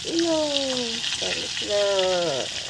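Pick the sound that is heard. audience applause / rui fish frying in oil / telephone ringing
rui fish frying in oil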